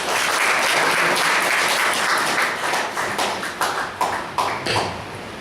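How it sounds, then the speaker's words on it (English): Small audience at a table topics speaking session breaks into applause, thick and full for the first few seconds, then thinning into scattered individual claps that taper off one by one. "Can we have a round of applause?"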